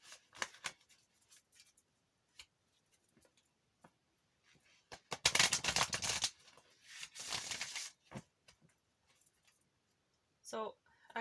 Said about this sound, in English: I will take some more cards out of the Wisdom of Oracle.